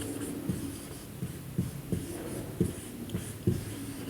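Chalk or marker writing on a board during a history lesson, heard as a series of short scratchy strokes in an irregular rhythm at moderate, close range, with no talking.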